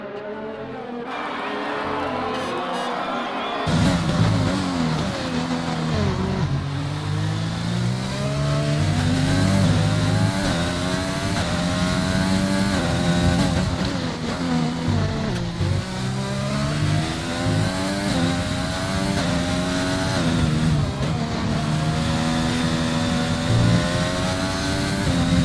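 Race car in a racing video game on a wet track with intermediate tires, engine revving up and down continuously through gear shifts, loud and close, with a commentator talking over it.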